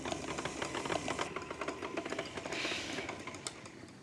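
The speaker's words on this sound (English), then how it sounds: "I'm gonna continue to mix this on low while I slowly stream the milk in" An old KitchenAid stand mixer runs steadily on low, beating sponge cake batter as hot milk streams in, with a continuous whirring motor hum and faint rhythmic clicking from the beater close by.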